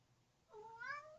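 A single short meow from a pet cat, rising then falling, fairly close but quiet against a soft background hum.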